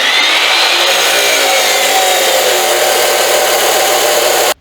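A power tool cuts steel pieces for a homemade gooseneck trailer in one loud, continuous grinding whine that holds for over four seconds, then stops abruptly.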